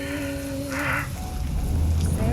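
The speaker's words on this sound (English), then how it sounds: "Torrential downpour cascades down into the swirling waters" Torrential downpour pours into swirling waters during a cyclone around a dark fortress: dense, steady hissing rain with a deep rumbling undertone, loud and continuous, with a faint tonal wail early on.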